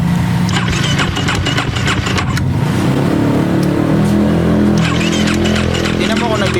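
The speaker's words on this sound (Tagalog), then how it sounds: "Pakinggan natin ang makina kung gaano kagandang makina ang build ng top rebuild" A rebuilt Husqvarna 250 motorcycle engine running after starting, a loud, close, steady mechanical drone with uneven revving throughout, mixed with some clatter and background noise.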